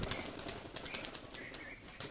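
Flock of domestic pigeons flapping their wings as they are released outdoors, a steady fluttering rush of wingbeats lasting a couple of seconds with faint chirps mixed in.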